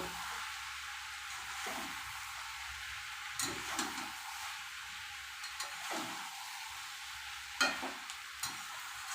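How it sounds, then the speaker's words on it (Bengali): A spoon stirring taro stolons and potatoes in a pan over a steady soft sizzle, with a few scraping strokes in bursts, close and quiet, no voices. "একবার নাড়িয়ে দিই একটু ওপর নিচ করে দেব"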